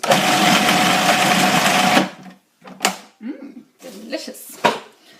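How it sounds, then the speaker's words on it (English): A food processor blitzes Thai chicken burger mixture with soy sauce, a loud whirring burst for about two seconds that then stops, followed by clicks and clattering of the bowl and lid. "Give it one last blitz."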